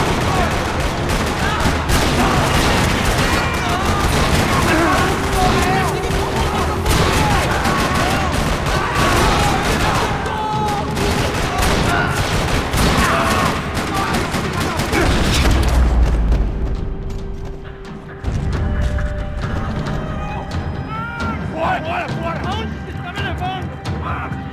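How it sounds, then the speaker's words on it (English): Heavy gunfire rattles across a parking lot in the video game Max Payne 3, with dense bursts of automatic fire and booming shots going almost continuously, then thinning into scattered shots and mechanical clatter near the end. "Another parking lot rattling with gunfire"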